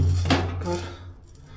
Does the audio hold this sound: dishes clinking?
yes